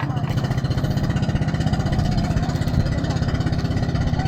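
A boat's four-cylinder engine runs close by with a steady, throbbing low pulse at an even idle rhythm, loud and continuous with no change in pace.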